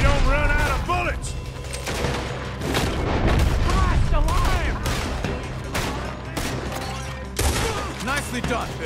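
Heavy gunfire in Red Dead Redemption 2 during a robbery shootout, with dense, repeated booming shots and ricochets overlapping continuously at close range, and voices shouting over the din.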